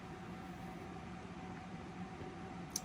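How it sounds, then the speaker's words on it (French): A dehumidifier runs indoors with a faint, even hum and soft airy hiss, steady throughout with a small click near the end, no voices. "Ce que vous entendez, c'est les bruits de déhumidificateur."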